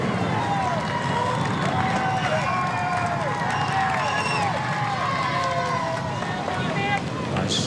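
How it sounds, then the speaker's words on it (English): Roadside crowd cheers and shouts steadily as Tour de France riders pass through, with wind buffeting the microphone and a commentator talking over the noise throughout. "Cheers from the crowd there as they pass through."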